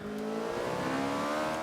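A steady, loud V8 drone from an Ariel Atom V8 500 in the Forza 5 video game, holding an even high-revving pitch for a couple of seconds with no talking.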